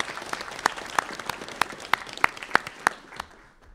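Audience at a law school moot court final giving a short round of applause: a handful of distinct claps over low room murmur, fading out by the end.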